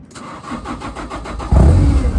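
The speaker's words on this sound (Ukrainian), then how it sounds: "Все, підйомник запустився." A Genie GS-5390 RT gas/petrol scissor lift engine cranks with rapid rhythmic starter pulses, then catches and settles into a loud, steady idle.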